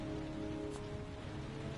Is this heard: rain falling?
yes